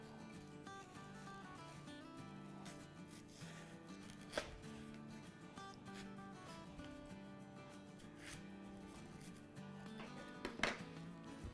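A knife cutting through a watermelon for a fruit chaat, with a few faint slicing and crunching sounds under steady low background music and hum.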